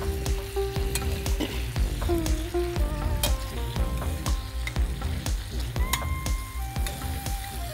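Bone-in meat sizzles loudly in a hot pan, with steady crackling and spitting fat and intermittent stirring scrapes and clinks throughout, close-up and continuous.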